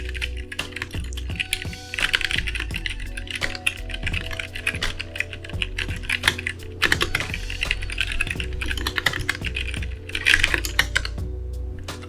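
Rapid, steady clacking of Heiko Royal Clear mechanical keyboard switches, close and crisp, with bursts of fast typing and brief pauses.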